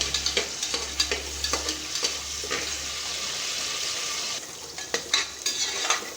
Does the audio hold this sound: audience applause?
no